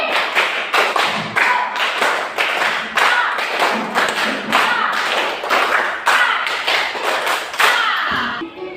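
Children clapping their hands together in counted groups, a run of sharp, close claps in a quick even rhythm with short gaps between the sets, fairly loud in a room.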